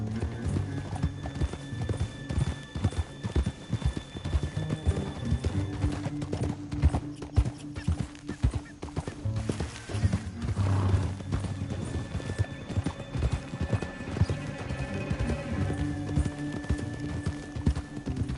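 Horses in the Red Dead Redemption 2 game walk with steady clip-clop hoofbeats and whinny now and then, moderately loud and close throughout, with no speech over them.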